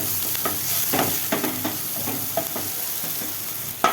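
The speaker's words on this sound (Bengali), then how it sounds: "ক্যাপসিকাম একটু হালকা হালকা ভাজা মতো হয়ে গেছে, সসের মতো হয়ে গেছে।" Capsicum with onion and chilli frying in a pan for a spicy chatpati, a soft continuous sizzle under repeated scraping strokes of the spatula, with a sharper knock near the end and no speech.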